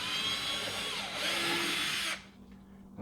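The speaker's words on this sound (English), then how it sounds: "drill nice and straight in" A power drill with a 5/16 bit bores into a wall, whining loudly and steadily at close range for about two seconds before it stops and leaves faint room noise.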